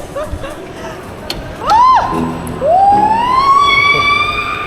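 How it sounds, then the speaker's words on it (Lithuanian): A fire truck siren at the AHHA science centre in Tartu, Estonia rises in a short whoop, then swells into a long climbing wail, loud and close over background crowd noise. "Sirena, jungiam."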